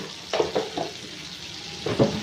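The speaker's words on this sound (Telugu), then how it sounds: "ఇప్పుడు ఇందులో ఆవాలు, జీలకర్ర, శనగపప్పు, కొద్దిగా మినప్పప్పు" Mustard seeds, cumin, chana dal and a little urad dal hit hot oil on a high flame, giving a few soft crackling bursts near the start and another near the end, close by with no talk.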